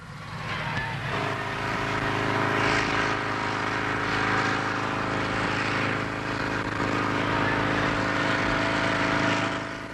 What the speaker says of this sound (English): it's powered by a motorcycle engine